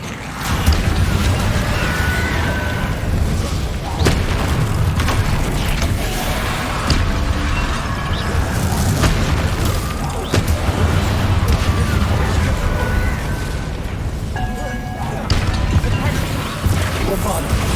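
Booming spell blasts and crashing impacts from Bombarda explosion spells in the video game Hogwarts Legacy, loud and dense, mixed with other combat spell effects and music throughout.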